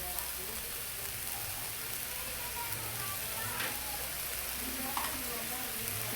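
Food frying in a pan is stirred, giving a steady close sizzle with faint scraping under occasional quiet background noise.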